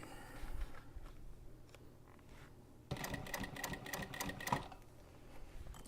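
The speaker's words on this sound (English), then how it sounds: "If I sew slow, it seems to be a little happier versus when I try to give it some gas" Sewing machine stitching slowly on a handmade bag, a faint rapid mechanical chatter that starts abruptly near the middle and runs for about two seconds before stopping.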